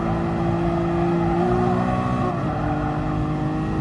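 A Lamborghini race car engine in Gran Turismo Sport holds a steady, loud, close drone, with its pitch shifting around the middle as the gear changes, then carrying on evenly; nobody speaks.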